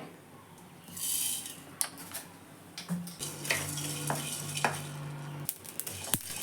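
Cumin and fenugreek seeds dry-frying in a pan, with a soft sizzle, spoon scraping and stirring clatter close by, fairly quiet throughout.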